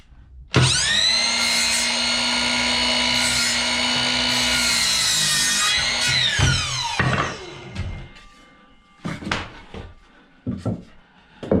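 Power saw cutting interior window trim in a tiny log cabin, a loud sustained whine for several seconds that winds down, followed by scattered knocks and handling clatter.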